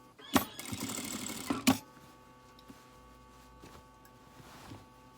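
A sewing machine topstitching a trouser waistband through the side seam allowance runs in one short fast burst, then stops, leaving a faint hum and quiet handling noises.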